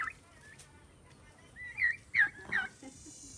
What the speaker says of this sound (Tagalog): Ito yung mga pabo namin.